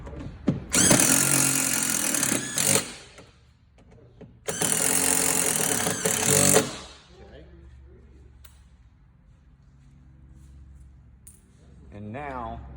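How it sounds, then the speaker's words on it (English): A power driver with a T30 Torx bit sinks self-tapping screws in two long, loud whirring bursts separated by a short pause, followed by quieter handling noises and a brief voice near the end. "take that T30 and put those self-tapping screws back in place"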